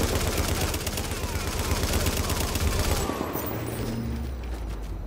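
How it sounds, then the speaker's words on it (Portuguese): Sustained rapid gunfire and bursts from the video game Tom Clancy's The Division, loud and continuous, dense volleys rolling throughout with faint voices underneath. "Ainda bem que eles param pra atirar."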